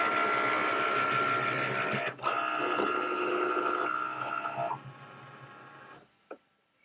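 A Cricut cutting machine cuts pieces for a DIY 4th of July banner, giving a steady, close mechanical whir with rapid ticking carriage movements that drops to quieter motor hum near the end, then a brief final click.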